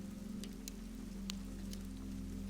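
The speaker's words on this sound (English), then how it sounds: "I can hear that it is still raining" Steady rain falls on a medieval castle in winter, a continuous soft patter with a low hum beneath and a few brighter drips, moderately close and unbroken, with no voices.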